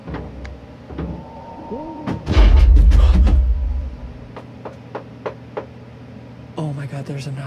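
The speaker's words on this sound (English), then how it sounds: "there's a knock" A few sharp knocks rap on a door in a small cluster, standing out against a low background hum, with a heavy rumbling thump just before and people talking around them.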